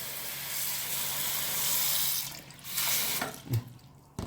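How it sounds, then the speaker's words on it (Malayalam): Water pours into a cooking pot for boiling, a steady broadband rush near the microphone that runs for several seconds and then tapers off into a few splashes, with no voices. "ഇത് നികക്കെ വെള്ളം ഒഴിക്കുക, അത് വേവാനുള്ള പരുവത്തിന്."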